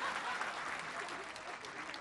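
Audience applauding during a presidential visit to a rural hospital in Tepic, Nayarit, a dense, even roar of many hands clapping at moderate distance throughout.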